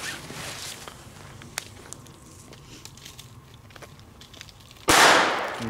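Quiet rustling and a few small ticks, then one loud, sharp New Year's Eve firecracker bang near the end with a brief ringing tail.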